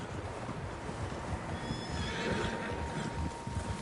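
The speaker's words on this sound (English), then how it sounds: "Horses, quite a few of them." Several horses whinny in a PS4 video game, with hooves clopping beneath a steady outdoor ambience, the neighs rising clearly at moderate distance.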